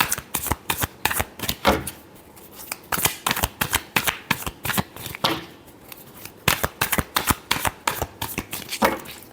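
Tarot cards being shuffled by hand, rapid bursts of riffling snaps in irregular runs, close and fairly loud, with no talking.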